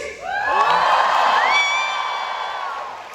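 Concert crowd at a show in Baku shouts and cheers in one sustained roar, swelling quickly, with whoops and high yells rising above the mass before it slowly fades.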